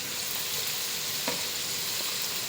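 Chopped green chillies fry in a pan with a continuous, even sizzle of hot oil, plus a single sharp click or stir near the middle, close and steady throughout.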